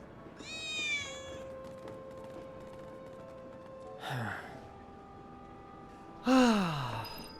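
Small white kittens in Final Fantasy VII Remake give three separate meows, a long rising-falling mew first, then two louder cries later, heard alone over a quiet game ambience.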